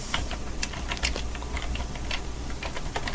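Rapid clicking keystrokes on a computer keyboard while editing a BIND DNS zone configuration file in a text editor, a close, continuous irregular patter of taps with no voices.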